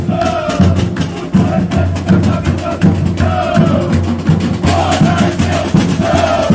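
Guarani football supporters shout and chant together in a loud, dense crowd roar, voices rising and falling in rhythmic bursts close by.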